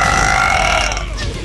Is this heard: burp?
yes